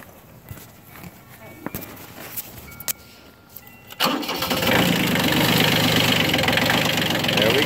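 A cracker tractor left outside overnight at 23 degrees starts from cold: a few clicks and knocks come first, then the engine catches and settles into a loud, steady idle up close.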